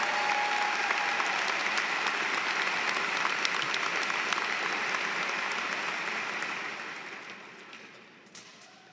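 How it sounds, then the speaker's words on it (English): Audience at a graduation ceremony breaks into sustained, dense applause that holds steady for several seconds and then gradually fades away to a few last claps. "Let's give them a big round of applause."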